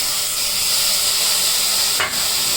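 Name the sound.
mutton sizzling as it is added to hot oil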